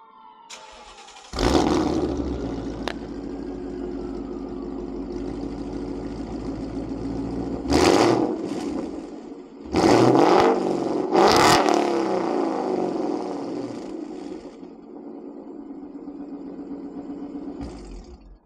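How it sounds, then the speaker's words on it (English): A 2017 Ford Mustang GT V8 with a Corsa Extreme exhaust cranks and catches, settling into a steady idle, then is revved sharply twice in quick succession before dropping back to idle. "I'll give you guys a startup on how the car sounds and do a couple of revs"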